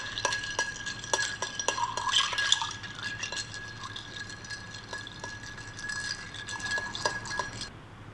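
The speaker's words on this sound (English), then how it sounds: "and stir it" A spoon stirring a honey citron jam drink with ice in a glass, giving steady clinking and rattling of ice against glass with a faint liquid swirl throughout.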